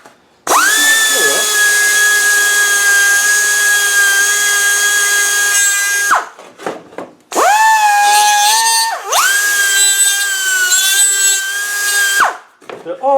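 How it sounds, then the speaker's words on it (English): Die grinder fitted with a small ball bit rounding and smoothing corners of cutouts on a wiper motor cover, a loud sustained high whine in two long runs with a brief pause, rising briefly on each start. "I'm just going to clip in the die grinder with a little ball on the end"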